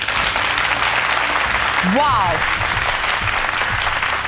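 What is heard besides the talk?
audience applauding the leaders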